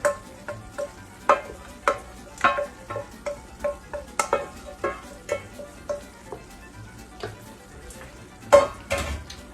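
Bolognese sauce bubbling and spattering in a pan, with irregular sharp pops and crackles over a soft simmering hiss, some bursts louder than others, close by and without talk.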